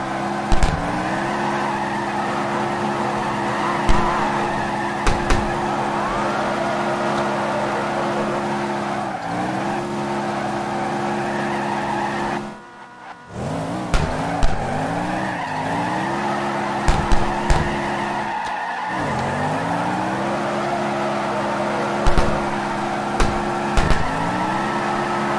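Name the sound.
drift car tire squeal in video game CarX Drift Racing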